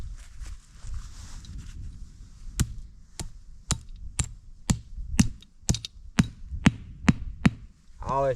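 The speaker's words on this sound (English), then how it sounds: "always just hammer that stuff down in the ground." A trap stake is hammered into the ground with about a dozen sharp, evenly spaced metallic blows, close and loud, after a few seconds of quieter outdoor rustling.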